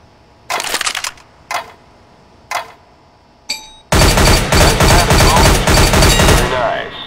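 Gunfire in Counter-Strike: Global Offensive's weapons course training mode: a few separate sharp shots spaced apart, then a loud, continuous rapid burst of automatic fire at a target.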